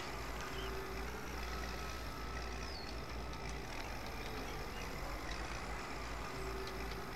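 A tractor drives in the farming game Farm Expert 2017, giving a steady, continuous engine drone with low rumble and faint mechanical clatter throughout.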